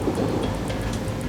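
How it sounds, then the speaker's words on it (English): Heavy rain and rumbling thunder from a storm closing in off the coast near a beach, steady and dense with a continuous low roar and sharp patter throughout, loud and close. "now the storm is closing in"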